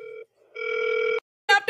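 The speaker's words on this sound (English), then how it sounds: "Mute the damn phone, Sherrill." A telephone rings in short electronic tones, a brief burst then a longer ring, followed after a pause by another sharp chirping ring, clear and close with no talk over it.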